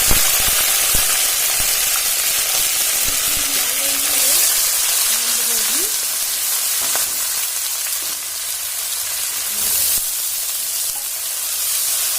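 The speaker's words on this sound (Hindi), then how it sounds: "तो इसमें हम डाल देंगे ये लहसुन अदरक का पेस्ट।" Garlic-ginger paste hitting smoking-hot oil in a pan for a cabbage dish, giving a loud, steady, close sizzle that holds for the whole stretch with faint stirring scrapes.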